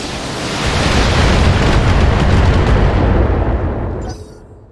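A weapon shot and heavy explosion in the BattleTech mech game roar as a loud, sustained rumbling blast that fills several seconds before cutting off abruptly near the end.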